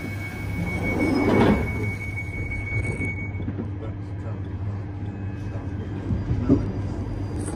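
A London Underground Northern Line tube train rumbles steadily with low droning hum, a brief rising whoosh early on, and faint talk mixed into the background.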